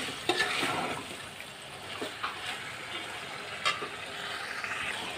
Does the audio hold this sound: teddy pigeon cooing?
no